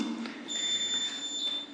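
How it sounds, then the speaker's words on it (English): A meeting timer sounds through a council chamber microphone as thin, sustained high electronic tones over a quiet room, fairly faint, with no one speaking. "A whole bunch of beeps will interrupt you."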